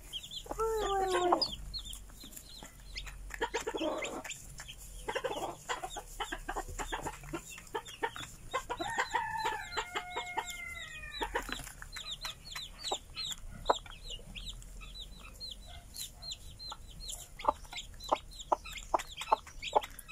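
A Silkie hen clucks softly and steadily to her chicks close by, her low repeated clucks mixed with high, thin peeping from the young birds throughout.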